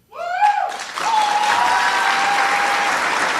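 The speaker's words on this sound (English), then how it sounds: "A lot of spontaneous cheers and applause there" A crowd at a Donald Trump speech cheers and applauds, starting with a rising shout and then settling into loud, sustained clapping with scattered yells.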